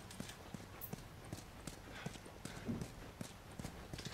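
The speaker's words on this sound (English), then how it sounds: "Let's get on the horse." Horse hooves clip-clop at a steady trotting rhythm in the video game The Last of Us, with faint background ambience.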